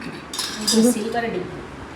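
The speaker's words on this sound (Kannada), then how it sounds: "ದೇವ್ರ ಸಾಮಾನೆಲ್ಲ ತೊಳಿತಾ ಇದ್ದಾರೆ." Metal puja vessels and utensils clink and clatter while being washed at home during Ugadi, a few sharp knocks of metal on metal near the middle, with voices talking around them.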